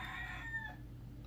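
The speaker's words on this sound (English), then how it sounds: "Oh, there's a rooster outside my window." A rooster crows once outdoors, faint and distant through a window, its call fading after under a second over a low steady background hum.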